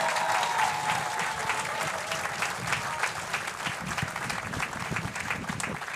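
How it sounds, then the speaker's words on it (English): A crowd at a Barbados Defence Force pass out parade applauds the graduating recruits, a sustained, even wash of clapping from a large outdoor audience, moderately distant. "Let us give these recruits another rousing round of applause"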